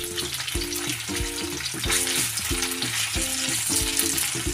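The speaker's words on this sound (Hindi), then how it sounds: "चिकन विंग्स हमने फ्राई करने के लिए रखे थे, 1-2 मिनट के बाद इसे पलट कर लेंगे।" Chicken wings frying in a pan over a low flame, a continuous bright sizzle with regular spatula scrapes and knocks repeating about every half second, close and steady, with no voices.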